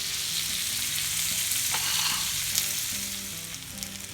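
Onions frying steadily in hot bacon grease for liver and onions, a continuous close sizzle with faint crackles throughout, no voices.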